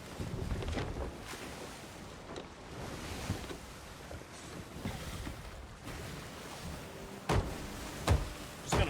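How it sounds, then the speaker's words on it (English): A sailing ship at sea in the game Sea of Thieves: a continuous rush of wind and waves with creaking and splashing, and a few louder sloshing bursts near the end, no talk. "Sail for a little bit."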